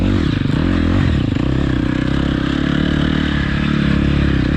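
A KTM 250 XC-F four-stroke dirt bike ridden at speed, its engine a loud, continuous drone with shifting pitch, wind rush and rattling from the chassis.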